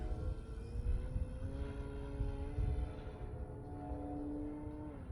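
A Hangar 9 J-3 Cub radio-controlled airplane with a 10cc engine flying, its steady buzzing drone holding a constant pitch, then shifting slightly lower as it passes, over low wind rumble.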